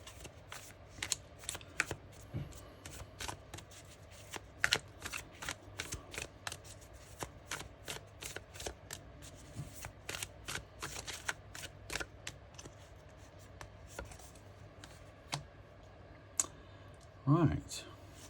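Tarot cards are shuffled close up in a steady run of crisp riffling clicks and soft flicks, with a few sharper snaps near the end, all fairly quiet and alone.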